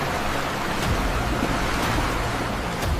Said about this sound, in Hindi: तेज हवाएं, लहरों का शोर